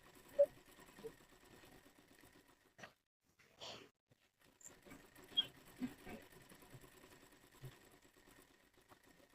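A sewing machine stitching a saree belt in quick, faint, uneven bursts of mechanical clatter, with short pauses between runs, heard quietly up close in an otherwise still room.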